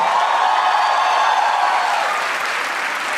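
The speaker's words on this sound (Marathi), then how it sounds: "एकदा जोरदार टाळ्या वाजवा बियुनिकसाठी" A stand-up comedy audience applauds for a special guest, a dense steady wash of clapping that holds at full strength and eases only slightly toward the end.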